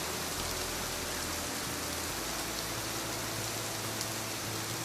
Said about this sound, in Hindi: बारिश अचानक मूसलाधार शुरू हो गई।